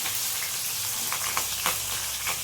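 Chopped onions dropped into hot oil with crackling mustard seeds for a brinjal and raw mango tamarind curry, giving a steady loud sizzle with small popping crackles throughout.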